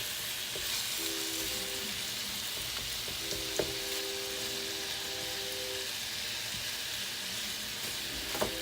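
Ground turkey fries in a pan, giving a steady soft sizzle that runs throughout with occasional faint clicks and clinks of utensils, no talking.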